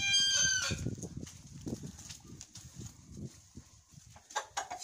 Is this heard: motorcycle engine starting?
no